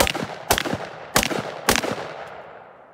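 Three loud, close gunshots from a .44 Magnum revolver crack out in a steady rhythm outdoors, each followed by a ringing echo that fades away.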